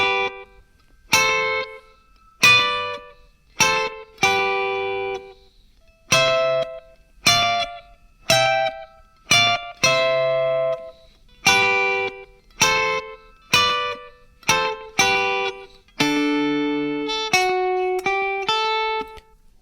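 Slow double-stop guitar riff, built on major and minor thirds with a classic rockabilly feel; clean, evenly spaced plucked pairs ring out alone, ending with a few longer sustained notes.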